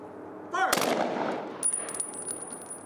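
A ceremonial rifle volley fired at a memorial service gives one sharp, loud crack that rolls off into a lingering echo, followed by quieter outdoor rustling.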